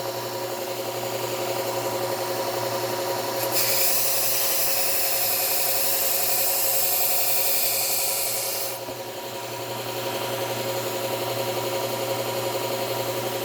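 A metal file rasping along a grass clipper blade during sharpening, heard as one steady, bright scraping stroke lasting several seconds over a constant low background hum.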